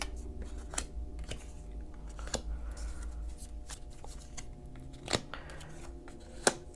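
Tarot cards are shuffled by hand during a reading, soft close riffling with scattered sharp flicks and snaps over a quiet background.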